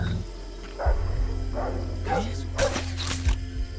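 A dog barks a few times at moderate distance in the stealth game Splinter Cell Blacklist, sharp yelps over a low game ambience hum, with a brief voice in between.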